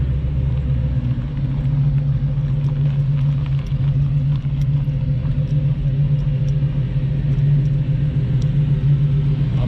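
A 1972 Ford Mustang Mach 1 with a 351 Ram Air engine at a spring classic car show, a steady loud low rumble of the engine idling close by throughout, with no voices.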